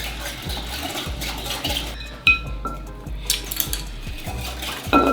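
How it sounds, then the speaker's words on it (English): A spoon stirs calamansi juice and seeds in a bowl for a chicken inasal marinade, clinking and scraping against the dish in a loose, repeated rhythm, close and clear with no talking. "There's some Calamansi juice. Give that a mix."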